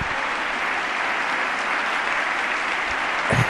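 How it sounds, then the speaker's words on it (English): A large audience at the State of the Union bursts into sustained, dense applause that holds steady and fairly loud for several seconds, with no voices rising above it. "a big crowd applause there"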